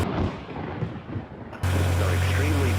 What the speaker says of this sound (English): National Weather Service Doppler radar indicated a severe thunderstorm capable of producing a tornado near Hazleton.